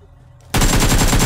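Rapid automatic gunfire in the battle royale mobile game BGMI bursts in after a quiet half second, a dense, loud, close stream of shots rattling continuously to the end.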